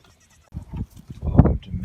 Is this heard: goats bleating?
yes